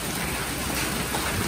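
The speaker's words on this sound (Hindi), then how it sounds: "ओले ओले कर दिए, देखो" Hail pelts down outdoors at a market, a dense, steady hiss and patter filling the air at close range.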